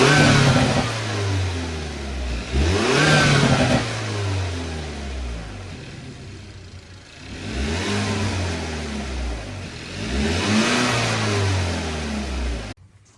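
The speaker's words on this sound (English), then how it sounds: "we're gonna get a quick little rev of the stock air box" A Hyundai Elantra N engine with its stock air box revs twice from idle, each rev climbing sharply and falling back, loud and close, with no voices.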